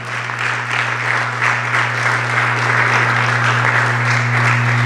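A church congregation claps in sustained, dense applause that holds steady throughout, over a low constant hum.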